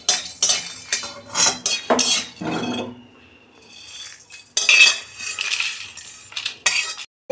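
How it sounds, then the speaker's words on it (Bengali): Whole spices stirred in a dry pan for egg chow mein make rapid metallic scraping and clinking in irregular bursts, close and fairly loud, with a short quiet gap before the stirring resumes. "আমি মশলাটা একসঙ্গে সব দিয়ে শুকনো খোলায় নেড়ে নিচ্ছি।"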